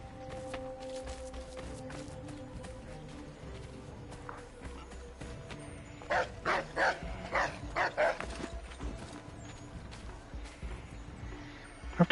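A dog barks in Assassin's Creed III, a short burst of several sharp barks mid-clip over steady game ambience with faint footsteps and hoofbeats.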